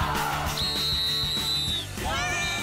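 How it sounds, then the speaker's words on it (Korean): A sharp, steady whistle blast lasting over a second signals the start of a seine-net fishing experience, sounding over a busy crowd noise with excited voices rising right after. "체험 시작을 알리는 호루라기 소리가 울리자"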